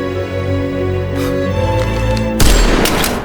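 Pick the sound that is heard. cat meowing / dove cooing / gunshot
gunshot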